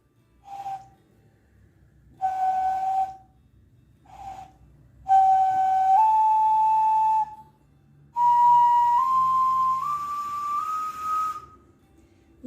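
Small handmade clay whistle sounding a sequence of clear, separate tones, short toots at first, then longer held notes stepping upward in pitch, with pauses between phrases.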